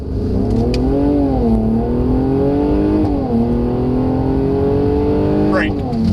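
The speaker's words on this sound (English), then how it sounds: "basically a rapid acceleration into emergency stop" A Mercedes accelerates hard from a standstill on a cone-marked course, its engine revving loud and steady with rising pitch before an emergency stop.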